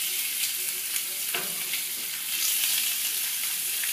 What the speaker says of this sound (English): that's what we want to hear. A little bit of searing.